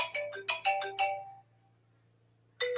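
Phone ringtone chiming a bright melodic pattern of quick repeated tones, stopping for a second of quiet before starting again, clear and fairly close, no talking.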